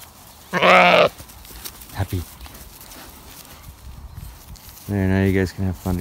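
A ram lamb and an older ewe bleat in two loud, close cries, with soft shuffling and movement in the quiet gap between them.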